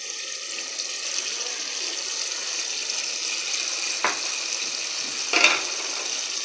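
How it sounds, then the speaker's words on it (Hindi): A steady, hissing rush of water poured into a hot pan of cooking potatoes and eggplant, sizzling throughout with a couple of brief louder splashes. "अब हम इसमें थोड़ा सा पानी ऐड करेंगे"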